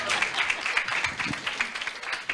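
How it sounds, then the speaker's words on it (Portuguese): Brief audience applause at a panel event on Amazon fisheries, a short burst of scattered clapping from a modest crowd, fairly faint and steady throughout. "Pode aplaudir, nossa moderadora."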